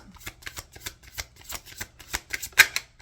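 A tarot deck is shuffled by hand in a quiet room, giving a rapid run of crisp papery riffles and soft slaps that quicken toward the end.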